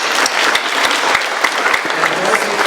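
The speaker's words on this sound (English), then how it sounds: "give a great big round of applause to our volunteers" A crowd applauding volunteers at an open house, steady dense clapping throughout, moderately loud and without pause.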